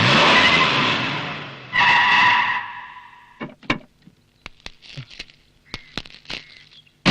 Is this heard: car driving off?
yes